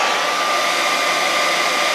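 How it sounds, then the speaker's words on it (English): Hair dryer blowing steadily at close range, a loud continuous broadband whoosh used to warm a resin premium format statue, running uninterrupted with no voices. "just take my hair dryer, heat it up a little"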